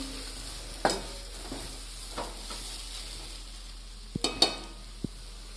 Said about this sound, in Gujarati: આ રીતે આપણે એને ચમચા વડે મિક્સ કરીશું